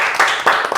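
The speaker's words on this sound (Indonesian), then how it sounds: "Tepuk tangan dulu." A short burst of hand clapping, three or four quick claps close by, after a quiz answer on an Indonesian medical talk show.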